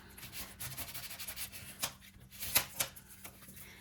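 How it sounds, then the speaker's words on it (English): Folded paper from a 6x6 Dollar Tree paper pad is burnished flat with soft, repeated rubbing strokes, quiet and close, with a few slightly sharper scrapes near the end. "And burnish that down."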